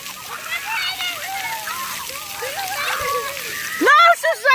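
Water splashes and splatters steadily at a busy outdoor splash pad, with children's excited voices and shrieks over the spray, ending in a louder burst of high squeals.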